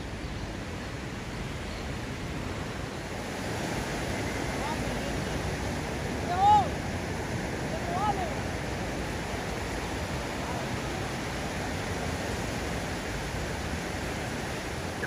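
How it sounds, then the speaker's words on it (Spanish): Strong surf at a Costa Rica surfing beach, a steady broad roar of breaking ocean waves heard from some distance, continuous and even throughout with only small swells in level. "Creo que esta playa es una de las que tiene las mejores olas para surfear aquí en Costa Rica."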